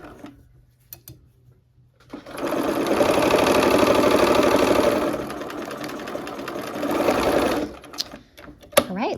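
A sewing machine stitches quilt pieces together, running in a loud, steady, rapid whir for several seconds with a slight dip in speed, then stopping, framed by faint handling clicks before and after.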